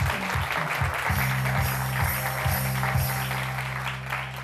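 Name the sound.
studio audience applause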